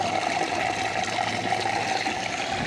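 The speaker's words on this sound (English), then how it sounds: "You hear all that gurgling? That's because it's sucking in the air." Water gurgles and rushes continuously as a venturi aerator draws air into the flow, a steady close churning hiss with no talking.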